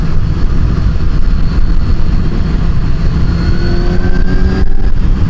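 A 2014 Kawasaki Z1000 Special Edition motorcycle engine pulls gradually in sixth gear, a loud, steady drone whose pitch climbs slowly. Heavy wind rush runs beneath it throughout, with no talking.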